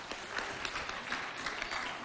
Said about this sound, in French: on l'accueille avec beaucoup d'applaudissements